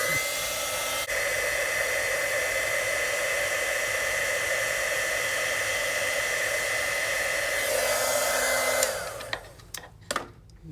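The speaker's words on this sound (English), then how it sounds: "we're gonna get our heat tool. It's gonna get loud for a second." A crafting heat tool's steady, loud whooshing blower roars continuously for several seconds, then winds down and cuts off, followed by a few light knocks.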